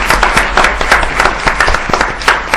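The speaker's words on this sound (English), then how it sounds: "So I'd like to please give a round of applause to Ms. Torrey Turner for being here this mor" Steady applause from an audience at an education board committee meeting, dense clapping filling the room at an even loudness with no voices over it.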